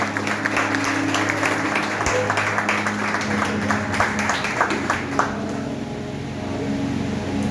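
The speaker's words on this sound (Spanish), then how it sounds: "Dale un aplauso a Dios y puede tomar asiento." A church congregation applauding during a service, dense steady clapping from many hands with a low hum beneath, loud and close, thinning toward the end while a voice speaks faintly.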